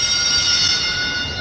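An electronic fire alarm rings in an animated cartoon set at a preschool daycare. It gives one steady, shrill, continuous tone that holds at an even level for the whole moment, with no talking.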